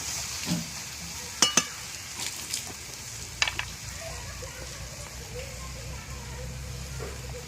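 Taro stolons are stir-fried in mustard oil in a pan. A spatula gives scattered metallic clinks and scrapes over a low, steady sizzle, with someone talking quietly alongside.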